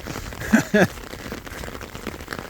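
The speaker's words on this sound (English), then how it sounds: "There's not an umbrella big enough to stop the rain." Heavy rain patters steadily on an umbrella in a farmyard, a dense close hiss of drops, broken by a couple of brief tonal calls near the start.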